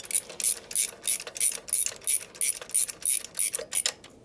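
Ratchet wrench tightening a bolt on a Harley shovelhead stroker big-bore motor without a lock washer, a quick series of crisp clicking pawl strokes, about a dozen evenly spaced, close and clear with no talking.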